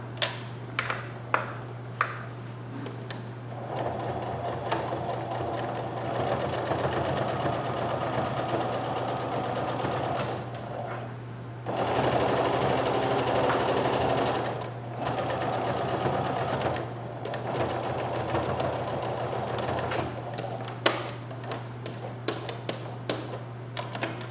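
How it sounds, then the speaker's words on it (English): A sewing machine back-stitches over a fresh seam on a sweatshirt pocket, humming steadily and close by for most of the stretch, with a few brief pauses and light clicks at the start and end. "you're going to go directly over what you've just done"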